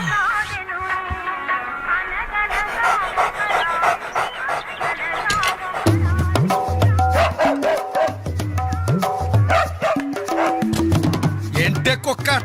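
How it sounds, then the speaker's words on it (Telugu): A dog pants and yips in a comedy film scene, with mixed voices and background music. "ఏంటే కుక్క అట్లా సొత్తున్నావు?"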